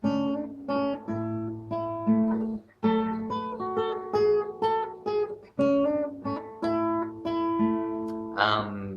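A clean electric guitar plays a short repeating riff of plucked notes and slides from a song, moderately quiet and alone with no talking.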